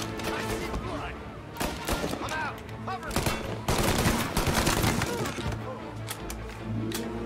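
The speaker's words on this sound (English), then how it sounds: "Tommy gun guy." Tommy gun fire in the Mafia Definitive Edition video game: dense, loud automatic bursts crackle in rapid runs amid other game sounds, with shots continuing throughout and a voice speaking briefly.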